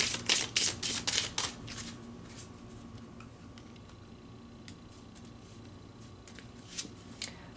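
Tarot cards are shuffled close up in a quiet room, with a quick run of crisp riffling flutters at first that settles into soft, faint sliding and occasional light taps.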